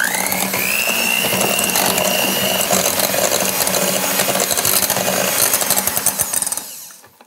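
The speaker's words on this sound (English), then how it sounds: "we're just going to give this another beat again till it's combined" An electric mixer beating egg yolk into scone batter, a loud continuous whirring rattle with a whining motor tone that winds down at the end.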